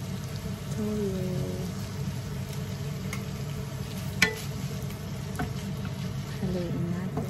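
Pancit bihon noodles being stirred in a pan with oyster sauce, fish sauce and soy sauce, a continuous close sizzle with scraping stirs and one sharp utensil knock.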